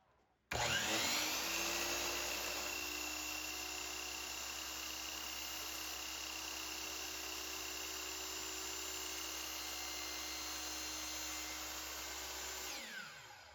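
A wood trim piece being cut down for a laundry room makeover with a power saw that spins up abruptly and runs steadily with a high whine for about twelve seconds before winding down.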